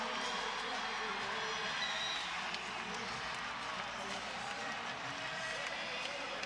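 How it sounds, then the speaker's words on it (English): Loud, sustained crowd cheering and applause fills a college volleyball arena during an NCAA regional fifth set between Louisville and Oregon, a dense steady roar with scattered claps and no pauses throughout. "loud cheer from the crowd as she heads to the bench"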